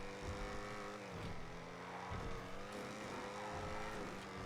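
A car drives in GTA, its engine rumbling and shifting pitch as it revs and settles, fairly faint and steady with no voices over it.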